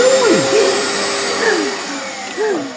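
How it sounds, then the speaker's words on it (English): A vacuum cleaner runs close by with a loud, steady whine from start to finish, while a voice speaks over it. "Don't vacuum, please."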